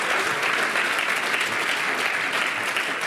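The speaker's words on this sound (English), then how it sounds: "Please give Antonio a huge round of applause" A hall audience at an annual research fund award ceremony gives Antonio a dense, steady round of applause, fairly loud and unbroken, with no talk over it.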